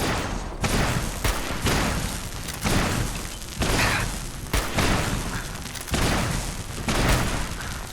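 Enemy in Fallout 4 firing a heavy launcher-like weapon rapidly without reloading, a series of loud booming blasts roughly every half second to second, each with a rumbling tail, close and forceful.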